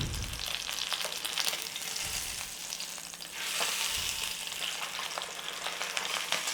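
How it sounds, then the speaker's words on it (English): A seasoned pork steak sears in a hot pan, giving a steady close sizzle and crackle that swells briefly partway through, with no voices. "So all we need to do is get that in that pan and start searing it."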